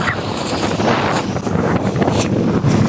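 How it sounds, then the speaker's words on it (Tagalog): Strong gusting wind sweeps across Manila Bay after a typhoon, with rough waves on the water. It makes a loud, buffeting roar of wind against the microphone that surges continuously over the churning sea. "Tuloy-tuloy ang bugso ng hangin."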